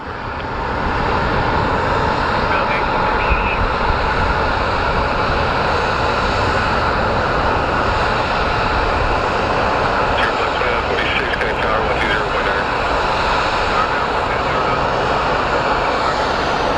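Airliner passing close by at Phoenix Sky Harbor airport, a loud continuous engine roar that stays steady and near for the whole stretch, with faint talk underneath.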